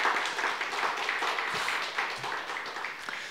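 Applause from an audience at the close of a Korean church Bible review class, a steady, moderately distant wash of clapping with no distinct voices.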